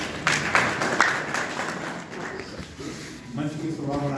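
An audience at a farmers' gathering claps in a short, scattered burst, with a speaker's amplified voice continuing over and after the applause.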